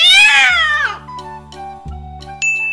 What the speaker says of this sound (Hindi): C A T cat. Cat means बिल्ली।